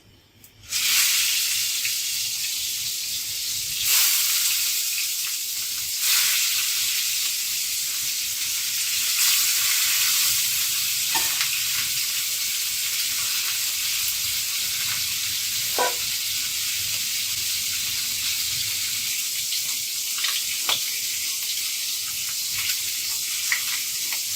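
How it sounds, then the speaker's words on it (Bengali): Pieces of Kalbaus fish frying in a kadai, a loud, continuous sizzle and hiss that swells as the fish goes into the hot oil, with occasional light clinks of stirring and no talking. "বাকি মাছ কটা আমি আবার ভাজা করছি কড়াইতে দিচ্ছি"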